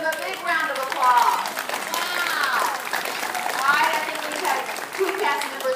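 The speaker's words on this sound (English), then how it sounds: "Let's give them a big round of applause." An audience of children and adults claps for cast members of a Cinderella production. Scattered applause runs under excited children's voices and shouts throughout.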